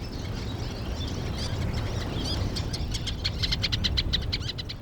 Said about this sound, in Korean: 도요 등에 쇠 제비갈매기가 찾아왔습니다.